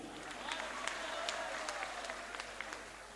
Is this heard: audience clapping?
yes